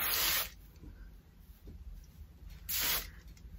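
Two short hissing bursts of hairspray sprayed onto hair, close by, separated by a quiet pause with faint rustling in between.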